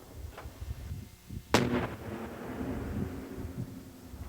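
A single sharp, booming blast from the controlled disposal of unexploded mines, heard at a distance against low rumbling ambience, with a brief rolling echo trailing off afterward.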